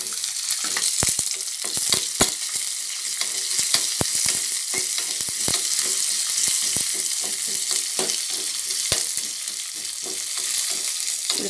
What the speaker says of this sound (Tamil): சும்மா லைட்டாக வெங்காயம் வதங்கினா போதும்